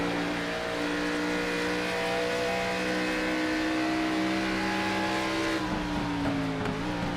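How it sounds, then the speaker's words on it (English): An ARCA race car in a racing video game accelerates at full throttle, a steady, loud engine whine holding and climbing in pitch before a shift near the end. "You can hear him get back to the gas full throttle."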